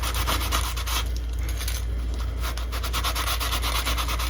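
A plastic fishing lure is sanded by hand, a steady close-up abrasive rubbing with repeated back-and-forth strokes over a constant low hum.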